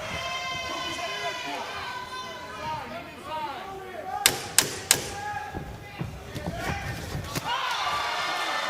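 Punches land in the George Kambosos Jr versus Maxi Hughes boxing fight: three sharp, close impacts in quick succession, then a few scattered lighter hits, all under an announcer's commentary and crowd noise.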